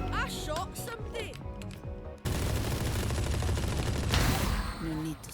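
Rapid bursts of gunfire in a Valorant-style tactical shooter, loud and close with dense rattling volleys alongside game sounds and voices talking.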